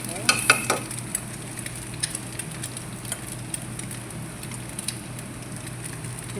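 Indomie noodles with eggs cooking in a pan: a steady low sizzle and frying hiss runs throughout, with a few sharper clatters and stirring scrapes early on and faint knocks later, no talking.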